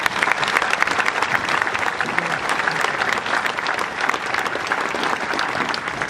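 Sustained applause from a graduation night audience in a large hall, steady dense clapping throughout with a faint murmur of voices underneath.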